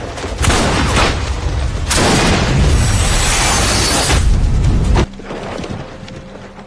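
Dense bursts of gunfire and booming blasts from a war film about a sniper battle between Americans and Chinese roar continuously, loud and chaotic, then cut to a quieter rumbling background.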